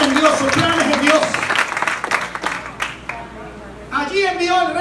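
Church congregation clapping in a broad burst of applause with voices and a raised speaking voice over it, while the clapping fades midway before the voice carries on.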